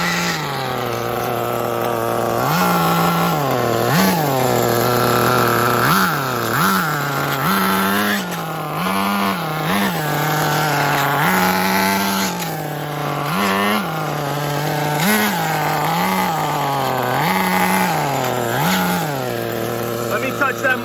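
A 21-year-old Tamiya Terra Crusher RC truck with low compression runs its small nitro engine loud and close, a buzzy whine that rises and falls in repeated revs like a chainsaw over the whole stretch.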